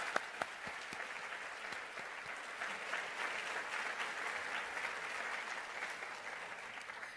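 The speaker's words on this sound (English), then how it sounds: "So they all deserve a big round of applause." A school employee awards ceremony audience in Polk County claps in a sustained, even round of applause, moderately loud and continuous, with a few sharper claps standing out near the start.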